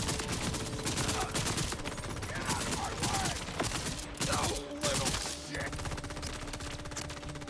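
Turret gunfire in the video game Borderlands 4: dense, continuous rapid bursts of shots that sound loud and close and run without a break for the whole stretch.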